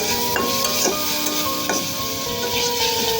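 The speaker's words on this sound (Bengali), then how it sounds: "মাছগুলো দিয়ে দিচ্ছি, একটু হলুদ দিচ্ছি, ভালোভাবে ভেজে নেবো।" Small chanda fish fry with turmeric in a hot pan, giving a loud, steady sizzle. A utensil scrapes and stirs against the pan every second or so.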